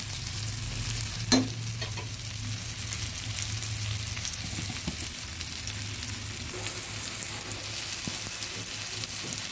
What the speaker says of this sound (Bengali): করলাগুলো ভাজা হয়ে গেছে